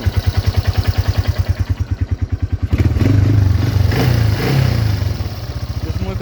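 A 1988 Yamaha Moto 4 225 ATV engine idling just after a carburetor rebuild, close and loud, with a rapid even thumping putter that rises into a rougher, fuller rev partway through before settling back.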